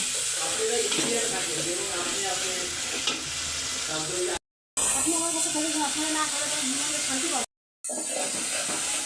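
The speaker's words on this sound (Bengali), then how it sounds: "মশলাটা এখন সুন্দর করে কষিয়ে নেব" Spice paste fries in hot oil for a bottle gourd and small hilsa dish, giving a continuous sizzle and hiss with stirring scrapes, fairly close and loud, briefly broken by two short gaps.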